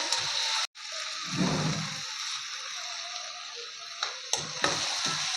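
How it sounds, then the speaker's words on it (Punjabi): Onions frying in a pan for a Punjabi pumpkin (kaddu) sabzi, a steady close sizzle with occasional stirring and a brief silent break near the start. "ਪਿਆਜ਼ ਨੂੰ ਆਪਾਂ 2 ਮਿੰਟ ਵਾਸਤੇ ਭੁੰਨ ਲਿਆ"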